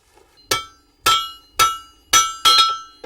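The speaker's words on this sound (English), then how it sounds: "Got tongs and hammer here in my hand." A blacksmith's hammer strikes metal in a shop beside a soft coal fire, five loud ringing blows at a steady, roughly half-second rhythm, each with a bright metallic decay.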